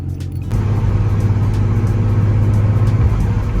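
An Infiniti G35 being driven, its engine a steady close droning hum with a low tonal growl that rises after a brief quieter opening and holds continuously.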